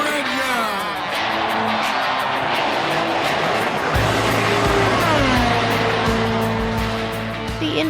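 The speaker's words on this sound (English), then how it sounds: "Drivers, start your engine!" IndyCar race cars firing up and roaring, engine tones sweeping and whining as they rev, with a deep steady rumble joining midway, loud and continuous, and a voice faintly under the noise.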